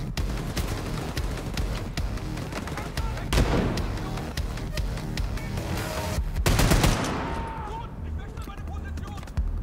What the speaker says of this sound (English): They have a machine gun turret over there.